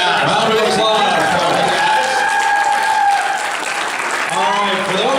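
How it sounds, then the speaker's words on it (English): Loud applause and crowd noise fill a convention hall at the close of a fan Q&A, with cheering voices and chatter layered throughout and swelling again toward the end. "Round of applause."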